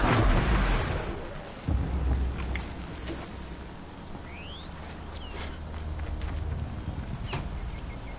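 Thunder and rain in the video game Horizon Zero Dawn, a heavy rolling rumble at the start settling into steady rainfall hiss with a few faint chirps, no talking.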